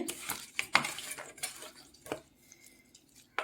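Koi fish being coated with turmeric in a bowl for frying, a series of close clinks, scrapes and wet squelching handling sounds, irregular and intermittent, with quieter gaps between knocks.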